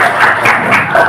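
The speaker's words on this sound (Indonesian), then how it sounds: "Bagus, tepuk tangan." A primary school class clapping their hands together in a classroom, a brief burst of uneven, rapid claps from many children at close range.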